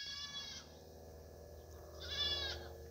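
A goat bleats twice, faint and a little distant, in two short wavering calls about a second and a half apart, with no talk.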